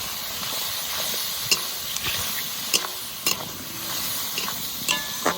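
Onion, chilli and fish fat frying in oil with a constant sizzle, broken by scattered scrapes and clinks of stirring in the pan, no talking.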